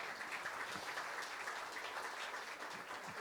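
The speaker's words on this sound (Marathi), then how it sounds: "टाळ्या वाजवा जोरदार संगीतांसाठी." Audience applause at a 60th birthday celebration, a steady, dense wash of clapping from a crowd lasting throughout, fairly even in loudness with no voices over it.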